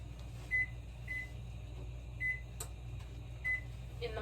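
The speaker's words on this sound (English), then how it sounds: "in the microwave to heat that up." A microwave oven hums steadily while heating a tortilla, with a low continuous drone and a few short high electronic chirps and clicks scattered across it, no voices.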